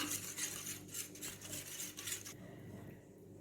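A utensil whisks cornflour into beaten egg in a bowl, quick rhythmic clinking and scraping strokes, close and fairly quiet, ending abruptly into near silence for the last second.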